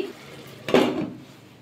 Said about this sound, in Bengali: এবার গ্যাসটা অফ করে দেবো, দিয়ে ঢাকা দিয়ে রেখে দেবো